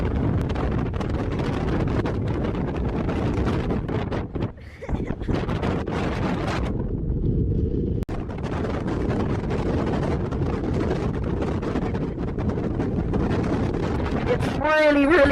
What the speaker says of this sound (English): Just outside the ferry door, when you walk outside, it's so windy.